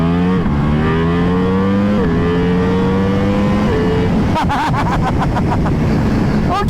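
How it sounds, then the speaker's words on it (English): A Ducati Multistrada V4 RS motorcycle's engine is heard up close while riding a road: loud, rising revs broken by quick gear shifts, then a burst of rapid pops, with a brief spoken word. "I'm on the Multistrada V4 RS on the exact same road that I was on the Panigale V4R"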